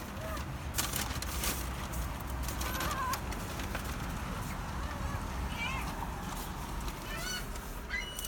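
Seagulls call outdoors with short, scattered cries rising over a constant noisy background, some near and some farther off, with a hint of voices mixed in.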